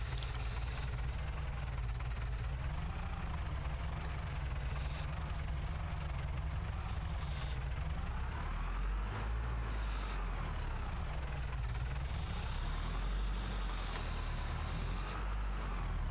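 Tractor engine in Farming Simulator 25 runs steadily throughout during straw work, a continuous low droning rumble with slight pitch swells, no voices.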